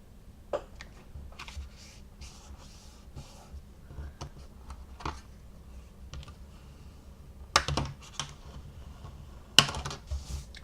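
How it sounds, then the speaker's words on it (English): Cardstock paper being folded and creased for a pop and twist card, heard as scattered soft crinkles, taps and a few sharper clicks at close range with no talking. "you're going to get the top piece and fold that back over"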